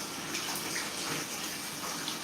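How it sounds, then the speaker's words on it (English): Steady running tap water splashes over food being rinsed while lunch is made, a continuous broadband gush that stays close and even throughout with no talk. "I'm basically just rinsing it out."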